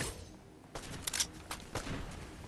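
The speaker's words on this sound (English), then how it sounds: "The gunfire." Several sharp bursts of gunfire crack out in the Fortnite video game, clustered in the second half with uneven gaps between them, moderately loud over a low background hum.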